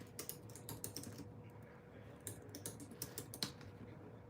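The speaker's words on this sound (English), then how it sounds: "Let me type it in." Quiet keyboard typing on a computer, bursts of quick key clicks with short pauses between them, close and fairly soft with no talking.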